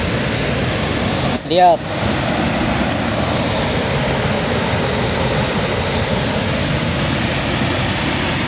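Broadband rushing roar of a waterfall beside a river, continuous and loud close at hand, with a brief spoken word near the start.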